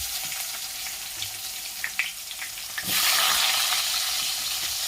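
Onions sauté in hot oil with fenugreek and mustard seeds for an okra tamarind curry, a close, steady hiss with light clinks of stirring that swells into a louder sizzle partway through.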